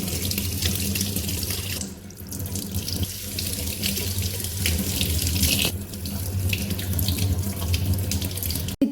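Custard apples being washed under a running kitchen tap, with a continuous loud gush of water into a sink and splashing as the fruit is handled, close and unbroken for the whole stretch.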